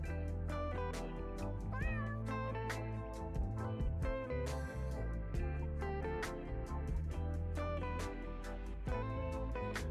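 A cat meows repeatedly over a sustained bed of music, the calls short and fairly close, with no talking.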